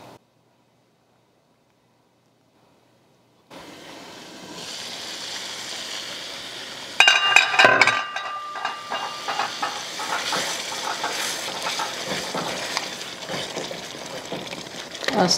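Kwenkwen stew simmering and sizzling in a pot, cooked street-style in Kumasi: a steady bright hiss after a quiet start, growing busier and more crackly midway and continuing close and constant.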